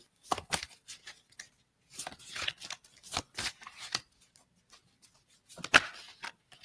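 Tarot cards being shuffled and drawn close up, several short crisp riffling bursts separated by pauses, with a soft card slap near the end, no talk.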